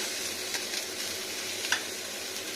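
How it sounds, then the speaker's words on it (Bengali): Eggplant frying in a pan for a rohu fish curry with mustard greens and potato, a steady close hiss of sizzling oil with a few soft stirring clicks. "এই বেগুনটা একটু ভাজা ভাজা করে নিচ্ছি"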